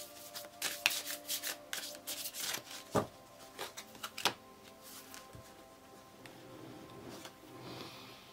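Tarot cards are shuffled by hand close up, a run of quick papery riffles and soft slaps that thin out into gentle rubbing toward the end, with no speaking.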